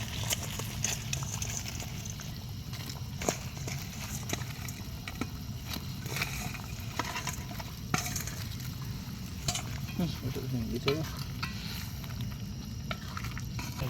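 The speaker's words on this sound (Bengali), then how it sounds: "এবার আমরা আমাদের ফ্রাই করা চিকেনটা দিয়ে দিচ্ছি এর মধ্যে" Fried chicken pieces are stirred into a thick chilli chicken gravy, likely cooked at an outdoor picnic, giving a steady low bubbling sizzle with repeated scraping and knocking of a spoon against the pan throughout.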